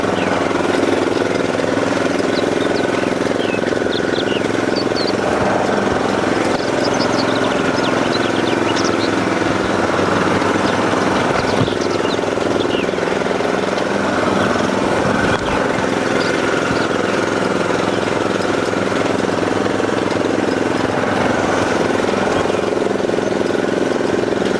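Engine of a Husqvarna Rider R 213 C articulated ride-on mulching mower with hydrostatic transmission, running continuously at a steady loud drone with a knocking mid-range tone, close by and without talk.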